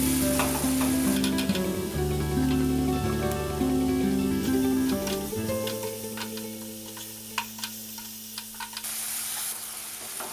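Onions fry in a pan with a steady, bright sizzle set against soft background music; the frying eases off partway through and then carries on more quietly.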